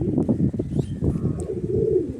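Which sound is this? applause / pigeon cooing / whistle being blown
pigeon cooing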